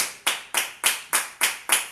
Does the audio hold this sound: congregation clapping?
yes